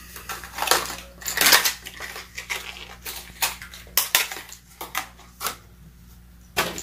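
A square bill crankbait lure shaken by hand so its internal rattle clatters, a series of sharp close clicks and clacks in uneven bursts with no talk.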